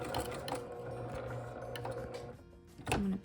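A sewing machine stitches the mitered outside corner of a quilted car seat poncho, a steady close mechanical hum broken by brief pauses and a louder burst near the end as the fabric is pivoted and cut.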